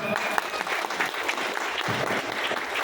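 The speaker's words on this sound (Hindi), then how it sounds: "एक बार कैसे शानदार ताली हो जाए" A village audience breaks into dense, steady applause that keeps an even loudness throughout. Many hands clap at once, with no clear voices above them.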